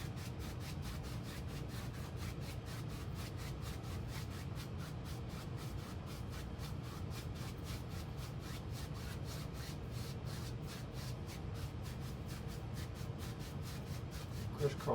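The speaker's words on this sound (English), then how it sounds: "Crisscross strokes will blend it out real nice." A paintbrush drags across stretched canvas in quick crisscross strokes while blending paint on a country-scene landscape, a soft, regular brushing rhythm that repeats evenly for the whole stretch, close but quiet, with no talking.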